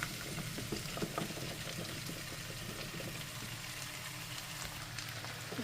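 Potatoes added to softening onions frying in a pan for tartiflette, a steady low sizzle with faint scattered crackles and stirring, no talk.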